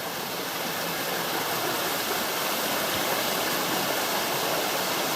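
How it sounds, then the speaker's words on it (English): Waterfall tumbling through a rocky crevice in the bush near Bundanoon, a loud, dense, unbroken rushing roar close by that holds steady from start to finish. "there's a full-on waterfall up here"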